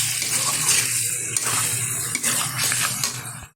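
Masala rinse water poured from a mixer grinder jar into a pan of mutton: a steady, close splashing pour that runs for about three and a half seconds, then cuts off abruptly.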